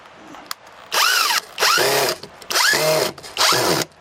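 Four bursts of a cordless power drill driving screws into wood for a bike shelter, each whir rising and then stopping abruptly, separated by short pauses and close to the listener.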